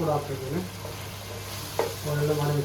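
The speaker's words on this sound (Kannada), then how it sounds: "ಅದರಮೇಲೆ ಈಗ ಮಸಾಲಾ ಹಾಕ್ತಿದ್ದೀನಿ ಮಸಾಲಾ ನಾವು ಕೊಟ್ಟು ಮಿಕ್ಸ್" Masala being stirred into prawns frying in a pan for Mangalorean-style prawn sukka: a steady close sizzle with scraping stir strokes and a brief sharp clink near the end.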